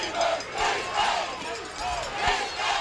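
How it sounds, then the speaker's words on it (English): A crowd at a high school football game between Phoebus and Dinwiddie roars and cheers in surging waves, loud and continuous, with rhythmic thumps mixed in. "even the crowd's gotten into this one"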